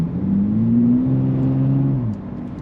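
A 2023 Nissan Z Performance with a 9-speed automatic pulls steadily under acceleration on a track lap, its engine note rising smoothly and then easing off, heard from inside the car with no talk.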